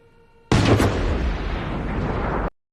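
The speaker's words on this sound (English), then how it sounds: "a shot rings out, dropping him" A single loud, close gunshot-like blast that bursts in abruptly and sustains a dense, roaring rumble for about two seconds before cutting off.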